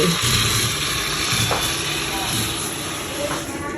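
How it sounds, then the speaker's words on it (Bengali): Polao rice frying in a pan in a home kitchen gives a steady, close hissing sizzle throughout, with a few soft scrapes of stirring. "চাল ভেজে রাখছি পোলাও চাল"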